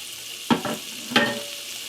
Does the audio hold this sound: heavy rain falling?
no